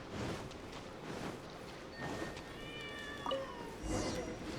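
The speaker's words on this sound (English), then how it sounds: "do you hear that? The little cat, isn't it?" A small cat meowing in Genshin Impact, a few high, thin mews over soft game ambience and footsteps, fairly faint, with someone talking nearby.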